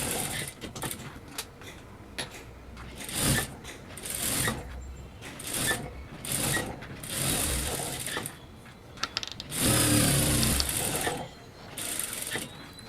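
A sewing machine stitches along the edge of a blouse lining, running in uneven bursts of rapid mechanical chatter separated by brief pauses, close by.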